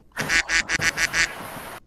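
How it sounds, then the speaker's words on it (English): A duck quacks in a rapid burst of about six loud, close calls in quick succession, then falls quiet, heard over a voice call among friends. "Is that a duck?"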